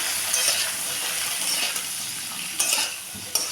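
Flat beans fry in a kadai with salt, turmeric and chili powder, giving off a constant close sizzle broken by a few sharp clinks and scrapes of a utensil stirring, with no talking.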